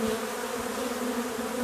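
Honeybees buzz steadily at a hive entrance with a narrowed opening, while guard bees defend the way in against attacking wasps; the hum is close, continuous and fairly quiet, with no voices.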